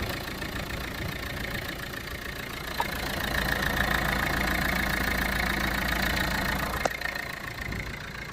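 Renault Megane engine idling steadily at close range, a low, even mechanical hum with a faint tick and a couple of brief clicks, no voices.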